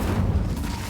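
The Incendio fire spell bursts in Hogwarts Legacy with a brief, dense low whoosh-boom that fills the whole moment at steady loudness.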